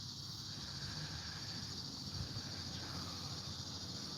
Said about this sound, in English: you got the cicadas around the trees over here making all the noise